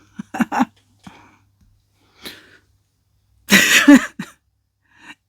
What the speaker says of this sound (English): I need to cough. And I'm not editing, so you get all the coughs.